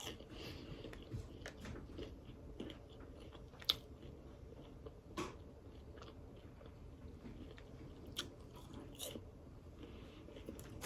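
Crunchy fried chicken wings and fried catfish are chewed with quiet, irregular crisp bites and crunches, close and soft, with no talking.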